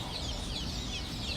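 Blue Swedish ducklings packed together at a hatchery, a steady dense chorus of high-pitched peeping close by, with no talk.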